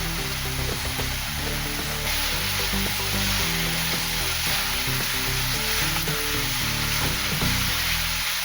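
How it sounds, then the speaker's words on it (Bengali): Masala of chili powder and turmeric mixed with water, frying in oil in a pan for kosha mangsho, gives a loud, steady sizzle with stirring scrapes throughout. "এটার মধ্যে দিয়ে দেব আমি লঙ্কা গুঁড়ো আর হলুদ গুঁড়ো মেশানো জল নিয়ে মশলাটা বেশ ভালোভাবে কষিয়ে নিতে হবে"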